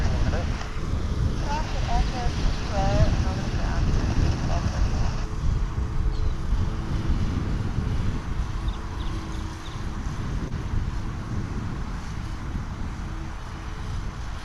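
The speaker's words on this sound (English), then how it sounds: "As the wind picks up a bit from the east" Wind blowing from the east at Dallas/Fort Worth Airport in North Texas makes a steady broadband rush that buffets the microphone, with slight swells in strength and faint high chirps in the background.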